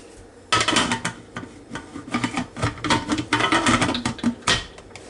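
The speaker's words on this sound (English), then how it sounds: "So I'm going to put the lid on it and put it on the stove." A lid set on a pot and the pot placed on a stove while preparing baby back ribs, a burst of close clattering, knocks and scraping metal handling noises that starts abruptly and runs on.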